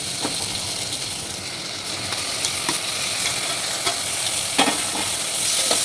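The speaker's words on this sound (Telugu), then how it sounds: "ఇప్పుడు టమాటా వేసేసుకోవాలండి" Tomatoes frying in a hot pan with whole garam masala and bay leaf for tomato rice, a loud continuous sizzle with occasional stirring scrapes, no talk.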